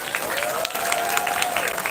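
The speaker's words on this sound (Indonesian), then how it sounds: "Tepuk tangan untuk Mas Dimas." Continuous applause from an audience at a primary school graduation announcement, a steady, full clapping crowd with a faint voice or tone underneath throughout.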